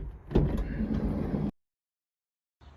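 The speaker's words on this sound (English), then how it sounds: "It's completely magnetic, and you can still open and close the door." The sliding side door of a 2025 Ford Nugget camper van, fitted with a magnetic mosquito net, rumbles along its track and thuds, followed by a sudden cut to silence and a faint return of sound.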